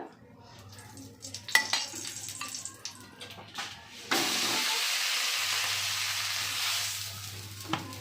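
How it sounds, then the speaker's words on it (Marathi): Thalipeeth made from carrot, cucumber and onion hits a lightly oiled tawa: a few clinks and scrapes of utensils, then a steady, fairly loud sizzle of frying that holds for the rest of the moment. "आता मी तव्यामध्ये टाकते, थोडंसं तेल टाकून घ्यायचं"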